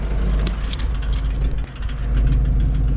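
Tractor engine running steadily at about 480 rpm during field work at roughly 6.5 km/h, a continuous low rumble heard close with faint intermittent clicks and rattles over the top.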